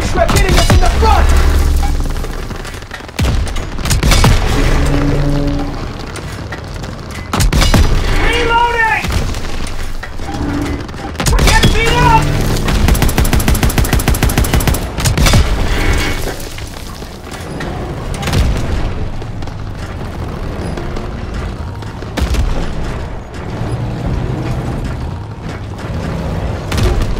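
Heavy explosions and rattling gunfire from a German Panzer tank attack in a Call of Duty WW2 battle, repeated loud booms and crashing debris layered with bursts of shooting, continuing throughout with no pause.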